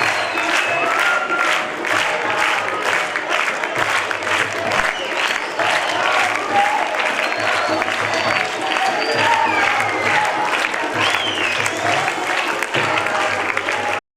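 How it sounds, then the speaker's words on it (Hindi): An audience in a hall in Karachi applauds after a student theater performance, with dense, sustained clapping throughout, loud and close, and occasional crowd voices and cheers mixed in. "तालिबात की शानदार परफॉर्मेंस पर हाल तालियों से गूंज उठा"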